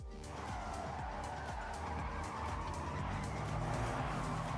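Race cars from the Forza racing game drive hard with engines roaring and tires squealing in a continuous, busy stretch of track action at moderate loudness.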